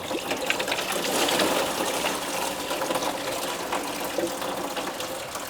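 Coolant from a VW 1.8T engine pours out steadily during timing belt work after the system was drained, a continuous close trickle and splash with no talking.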